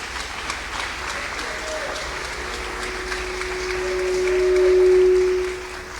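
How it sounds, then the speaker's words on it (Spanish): A church congregation applauds in a steady, crackling wash of clapping that swells toward the end, heard at a moderate distance with a faint tone running underneath. "Le damos un aplauso a Cristo"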